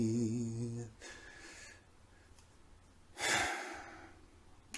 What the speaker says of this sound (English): Okay, breathe. Just breathe. Just breathe.